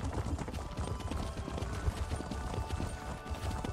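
Horse hooves clip-clopping at a steady trot while riding in the fantasy video game Elder Scrolls Online, close and continuous rhythmic thuds with no talk over them.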